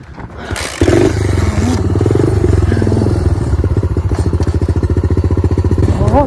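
A mini motorcycle engine revs hard and holds a loud, wavering roar, then settles into a rapid pulsing throb as it circles close by doing donuts on a trail by a railway line.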